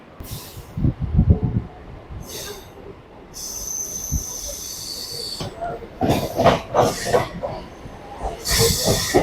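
Digha local train pulling out of Santragachi junction, rumbling wheels with squealing and hissing rising over several seconds, heard close from on board, with people talking at points.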